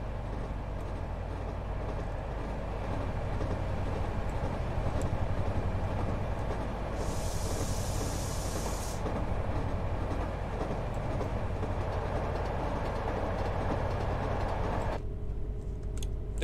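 Class 68 locomotive in Train Simulator 2019 rolling steadily along the line, with a continuous low rumble and faint rhythmic clicks of the wheels crossing rail joints, and a brief hissing burst partway through.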